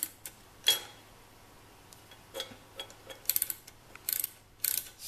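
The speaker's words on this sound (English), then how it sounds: "I have a 12-millimeter ratcheting wrench here" A 12-millimeter ratcheting wrench snugs a nut on a Yamaha YL1 rear brake assembly, giving bursts of rapid ratchet clicks and metallic taps, close and fairly loud, with short pauses between strokes.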